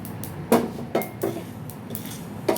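Whole spices being dry roasted in a pan for tamarind pickle give a few sharp clinks and scrapes of utensil against metal, spaced about half a second apart, moderately close.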